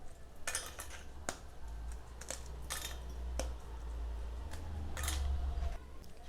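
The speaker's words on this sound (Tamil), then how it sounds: "பிஸ்கட்டை இந்த மாதிரி சின்ன சின்ன பீஸாக உடச்சி சேர்த்துக்கோங்க" Several sharp, crisp snapping and cracking sounds at irregular intervals as Oreo biscuits are broken by hand into a mixer jar, close up over a low background hum.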